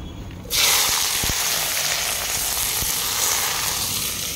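A sudden loud sizzle erupts and continues as a steady, close hiss of hot oil in a kadai, with a few faint knocks.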